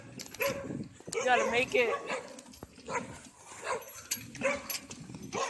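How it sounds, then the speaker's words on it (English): Dogs behind a fence bark and yip while chasing a passing bike, several close barks in bursts mixed in with a rider talking over them. "Dog's right there, trying to chase us. One almost jumped the fence"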